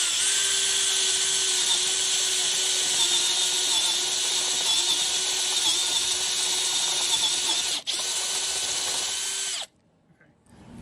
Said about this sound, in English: now we're going on with the taper bit down to 3/8